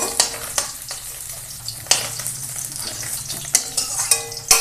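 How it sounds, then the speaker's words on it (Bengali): Shrimp frying in a pan with a steady close sizzle, punctuated by sharp clinks and scrapes of a utensil against the pan every second or so. "আমি এবার মাছগুলো তুলে নেব চিংড়িগুলো ভেজে নেব"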